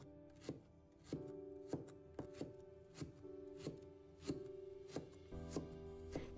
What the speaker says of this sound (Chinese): 再把它切成厚片